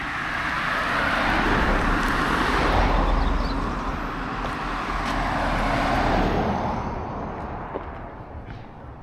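Road traffic with lorries and cars rolls past near a roadside green space, a continuous loud rumble that swells and fades as heavy vehicles pass close by, with no voices.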